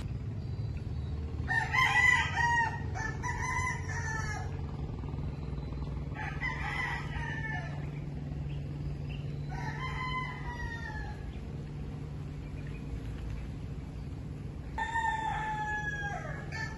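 Chickens crow in several long, strained calls spaced across the stretch, some overlapping with clucking, over a steady low outdoor hum, moderately close.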